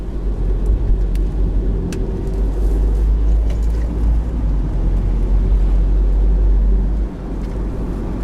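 A 2016 Mini Cooper with a 1.5-litre engine drives along, making a steady low drone mixed with road and wind noise that holds for the whole stretch and eases slightly near the end.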